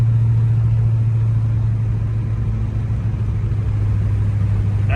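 A truck engine drones steadily in sixth gear while pulling a grade, a low continuous rumble with a constant hum and no gear changes or pauses.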